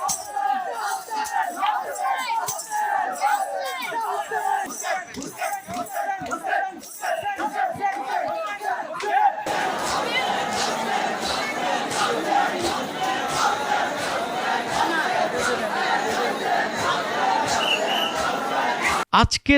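Dense, loud crowd at a Muharram Tazia procession from the 400-year-old Bibi Ka Rauza, with many voices chanting and shouting together continuously, rhythmic beating and clamour rising into a fuller roar partway through.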